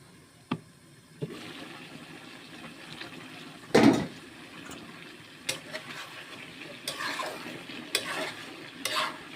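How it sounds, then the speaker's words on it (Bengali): Bottle gourd and potatoes sauté with spices in a pan, a low steady sizzle punctuated by scraping stirs and one loud clattering knock, close and alone without voices. "এই অবস্থায় আমি ঢাকনা দিয়ে ঢেকে লাউ আর আলুটুকু মশলার সঙ্গে আমি কষিয়ে নেব 5 মিনিট"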